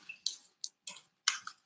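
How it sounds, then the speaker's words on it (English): Tarot cards being gathered up after a reading, a handful of brief, quiet papery swishes and clicks in quick irregular bursts, close by with no talk. "I'm going to put all the cards back"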